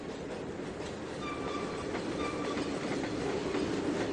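Simulated train trucks roll under Conrail hoppers in Trainz 2022, giving a steady low rumble with faint rhythmic clicks and a few thin squeals, moderately quiet and without talk.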